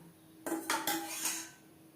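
Thick, nearly cooked mango dal is ladled from a cooking pot into another container, with a few clinking metal scrapes and knocks against the vessel over about a second, then quiet.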